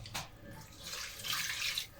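Water runs steadily into a soup pot of spinach, pumpkin and beans for an Italian spinach soup, a close, continuous pour that swells in its second half.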